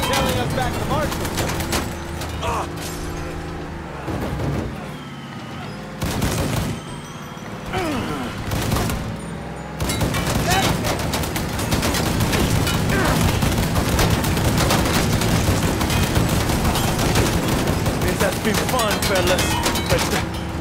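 Dense gunfire from a shootout in Mafia 3 crackles through nearly the whole stretch, bursts layered and continuous with a short lull partway, loud and close, while voices shout beneath the shots.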